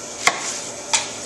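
Two sharp cuts of a knife through an onion, spaced apart, close and crisp, with no talking.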